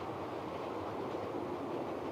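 A model railway train runs on a layout, giving a steady faint rolling rumble with no distinct clicks, continuous and quiet throughout.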